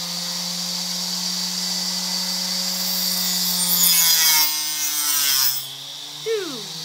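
A power saw cuts two wood boards down to size, its steady motor whine running throughout while the blade rasps loudly through the wood near the end.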